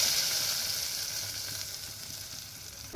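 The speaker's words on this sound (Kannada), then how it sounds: "ಇಲ್ಲಿ ಎಣ್ಣೆ ಕಾಯ್ಕಿಟ್ಟಿದ್ದೀರಿ. ಜೀರಿಗೆ ಹಾಕಿನಿ." Cumin seeds sizzling in hot oil, a dense, bright, continuous hiss heard up close and alone, easing slightly in intensity over a few seconds.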